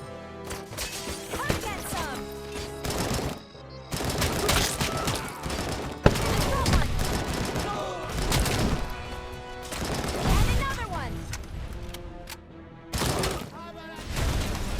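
Rapid SMG gunfire bursts in the video game RoboCop: Rogue City, loud and repeated in short volleys with game music and effects underneath.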